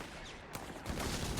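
Mortar fire in the Company of Heroes video game during a competitive match: a short burst of booming gunfire impacts, with a sharp hit near the middle and a louder, sustained rumble of blasts toward the end.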